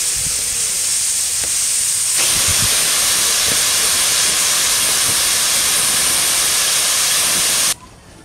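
A pressure cooker on the stove whistles loudly while mutton cooks inside, a sustained hissing jet of escaping steam that carries on steadily for several seconds and then cuts off abruptly near the end.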